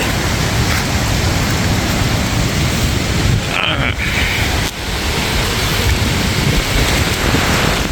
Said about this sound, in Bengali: এই যে ঝড় চলছে, আম পড়ছে